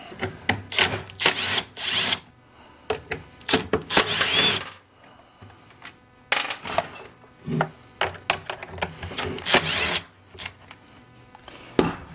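Short bursts of a power driver with a T27 Torx bit break loose the cylinder screws on a Stihl blower vac, close and loud. Several separate whirring runs come in an irregular rhythm with brief pauses between them.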